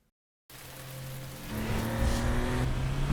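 A car driving on a wet road in the rain, with steady tire hiss on water and a rising engine tone that grows louder and fuller partway through, with no voices.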